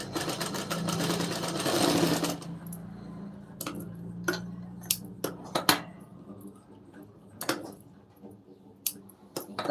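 Sewing machine stitching a lined blouse runs in a steady whirring burst for about two seconds, then falls quiet apart from scattered light clicks and taps of handling.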